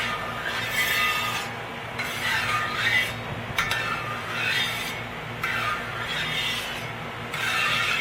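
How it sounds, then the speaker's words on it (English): Oil is rubbed over a Voyager metal cooking disc during seasoning, giving rhythmic scraping and rubbing strokes in repeated swells about a second or two long, close and moderate, with no talk. "Taking that oil from the center and putting it back up onto the surfaces, the higher surfaces of this disc."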